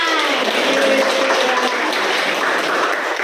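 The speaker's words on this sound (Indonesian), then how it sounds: "Kita tepuk tangan." A classroom of students clapping their hands together in unison, a dense, loud burst of many hands close by that holds steady for a few seconds.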